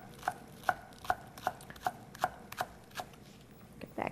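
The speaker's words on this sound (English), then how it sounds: "You want a couple of tablespoons of pretty finely minced onion." Knife chops finely through onion on a cutting board in a steady series of about nine crisp, close, evenly spaced strokes with no voices.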